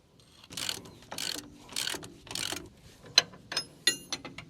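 A ratchet tightens a hose clamp on a brake chamber of a KamAZ truck. Several close, loud clicking strokes come first, then sharper, quicker ratchet ticks.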